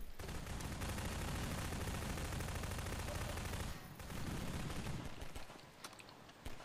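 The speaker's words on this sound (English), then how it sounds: "Five more shots on my submachine gun." Rapid submachine gun fire in the multiplayer shooter Half-Life 2 Synergy, a dense continuous burst of shots with a brief pause, then more scattered shots, loud and close.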